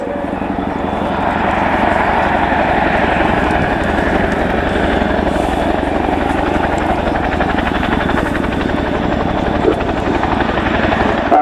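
A helicopter hovering during an air show display at the Royal International Air Tattoo, its rotor and engine giving a loud, steady, continuous drone with a fine rhythmic beat that holds unchanged throughout.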